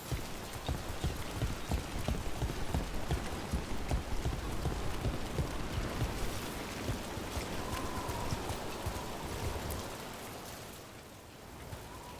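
Steady rain in the Dragon Age: The Veilguard game world falls as a dense, continuous hiss with patter on surfaces, softening slightly toward the end.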